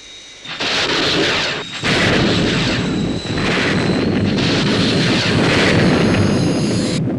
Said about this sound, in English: Missile firing